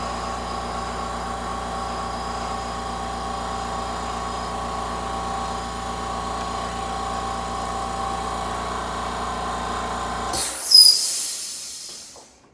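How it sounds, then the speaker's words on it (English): An air compressor powering a heat press hums with a steady, droning motor tone, then cuts off near the end with a short burst of hissing air before going quiet. "it was the air compressor that runs our heat press"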